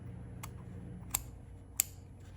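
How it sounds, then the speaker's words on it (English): Scissors trim lace on a slow-stitching fabric piece, three or four short, crisp snips spaced apart over a quiet room background. "So I'll trim off the lace."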